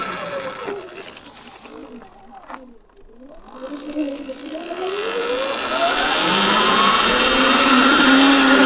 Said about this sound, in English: Let's see how fast we can start a wheelie and what the top speed is of this bike.